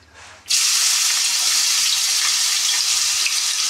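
Beetroot chowmein ingredients hit hot oil in a wok with a sudden loud sizzle after a quiet moment, and the hiss stays strong and steady to the end.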